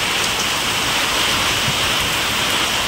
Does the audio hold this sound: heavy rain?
yes